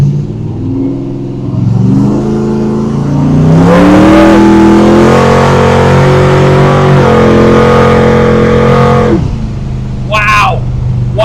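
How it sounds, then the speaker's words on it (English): A 1968 Camaro Pro-Street car revs at full throttle, a loud, close engine roar that climbs in pitch and holds before dropping off, with a brief voice near the end. "All right, that was full throttle."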